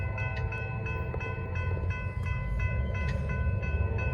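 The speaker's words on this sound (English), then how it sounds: "Pretty interesting train on this one." Norfolk Southern northbound freight train with a GP60 locomotive rolling past close by, a loud, steady rumble of wheels and cars with rhythmic clatter throughout and no voices.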